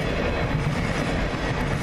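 A CN freight train led by a GE Evolution locomotive rolls past close by in Ladysmith, a dense, loud rumble of wheels and cars with no voices.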